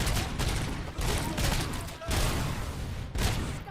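Loud, dense gunfire in a RoboCop video game, rapid overlapping bursts in several close waves separated by brief dips, with no talk.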